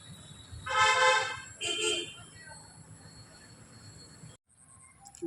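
A train at Jorhat railway station sounds two loud horn blasts close by, the first longer, then a low rumble that fades before cutting off.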